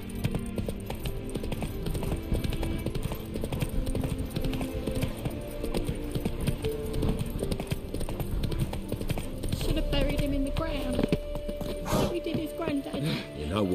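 Horse hooves clip-clopping at a steady trot in The Witcher 3 video game, a continuous rhythmic patter of hoofbeats heard close alongside ambient game sounds.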